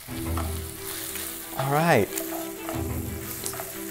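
Ground beef sizzles and crackles steadily in a hot frying pan for chili, a close, continuous frying hiss with brief stirring noises and a short spoken remark over it.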